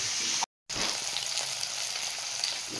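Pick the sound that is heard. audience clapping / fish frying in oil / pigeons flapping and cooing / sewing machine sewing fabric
fish frying in oil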